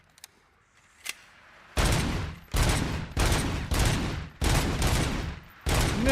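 Gunfire from RoboCop Rogue City: after a couple of faint early shots come five heavy, loud bursts of automatic fire, each roughly half a second long with short gaps between them, and no talking.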